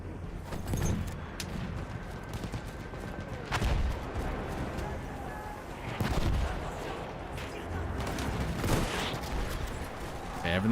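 Rapid gunfire and explosions from a Battlefield video game firefight: repeated bursts of shots and heavy blasts crowd together at a steady roar, with louder booms every few seconds and a voice talking over the battle.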